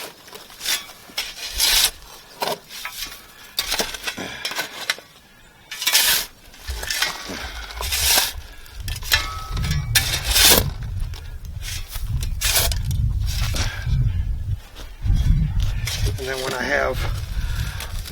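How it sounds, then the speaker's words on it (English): Ash is thrown onto a screen and sifted back and forth, making gritty scraping and rattling strokes in uneven bursts while someone talks over it. "one of the things that I'm doing to get all the excess stuff out of the ash is throwing it on the screen"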